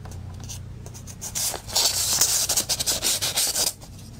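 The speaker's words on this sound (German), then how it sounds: "Zum Beispiel beim Öffnen eines Briefes." Spyderco Paramilitary 2 folding knife slicing open a paper letter, a short run of rapid scratchy rasps as the blade drags through the envelope, close and crisp with no talk.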